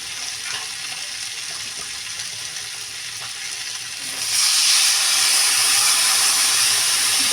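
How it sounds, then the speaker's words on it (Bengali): Water poured into a hot pan of fried spices, a steady sizzle and frying hiss that surges louder and brighter midway as the water hits, close and continuous with no talk. "এইবার কিন্তু দিয়ে দেবো জল।"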